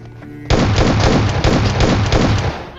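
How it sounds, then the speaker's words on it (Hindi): Rapid S12K shotgun blasts in PUBG Mobile burst in close and loud after a brief quiet lead-in, firing repeatedly in a fast, uneven run of heavy booming reports. "उसको 3 शॉट लगे थे S12 के"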